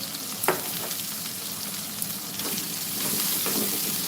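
Onions with rock salt sauté in a pan with a soft, even hiss of frying and a couple of light stirring clicks near the start. No one speaks.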